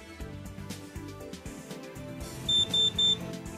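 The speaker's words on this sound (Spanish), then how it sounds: "Se oyen 3 bips y en la pantalla aparece el mensaje A.off" Three short, evenly spaced electronic beeps from an FMX003 measuring instrument as it powers on, sounding clearly over a steady background of low hum and noise.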